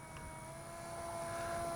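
A radio-controlled model airplane flies a pattern overhead, its small engine giving a steady, even drone with a faint high whine that slowly grows louder, no talking.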